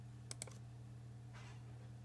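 A computer mouse clicks twice in quick succession over a steady electrical hum, followed by a soft rustle, with no talking.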